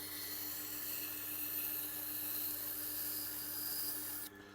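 A Global kitchen knife is drawn quickly across a sharpening stone, giving a continuous close gritty rubbing rasp that holds steady for several seconds and then cuts off.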